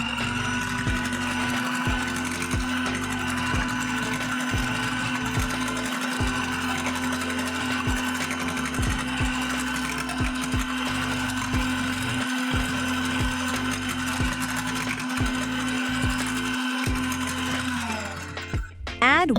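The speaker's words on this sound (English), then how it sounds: "Add this mixture to the yolks and mix for just 15 seconds until smooth and" An electric mixer whirs steadily for the whole stretch, blending cake batter with egg yolks for a hot milk cake, a constant close motor drone that cuts off near the end.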